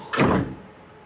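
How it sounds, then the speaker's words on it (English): The big sliding side door of a 2025 Ford Transit E-Custom electric van rolls in one quick, loud sweep in an underground car park, then fades to a quiet hum. "same way, big sliding door to get inside"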